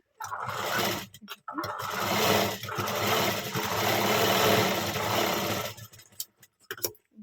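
A sewing machine runs in bursts while stitching a blouse front, with a loud, dense mechanical whirr that stops and restarts a few times, including near the end.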